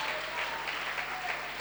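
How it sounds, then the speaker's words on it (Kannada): An audience at a church sermon claps loudly and continuously, a dense, even patter of many hands filling the hall for a short burst. "ಚಪ್ಪಾಳೆ ಹೊಡೆದ್ರೆ ಗಿಂಜಿ ಹೊಡಿಬೇಡ್ರಿ, ಜೋರಾಗಿ ಹೊಡೀರಿ."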